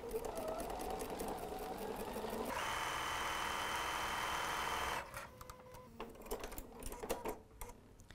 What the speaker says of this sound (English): I'm just gonna sew a straight stitch today, nothing fancy